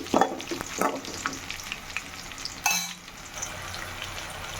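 Peanuts fry in hot oil for a peanut-tomato chutney, with a soft sizzle under scraping stirs and a sharp utensil clatter midway, then a quieter bubbling.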